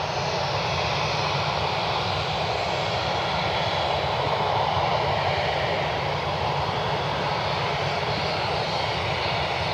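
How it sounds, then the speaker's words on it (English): Aircraft engines roar steadily at Cleveland Hopkins airport, a loud continuous broadband rumble lasting the whole stretch with no break, as planes hold short near the runway. "We got a line of aircraft holding short now."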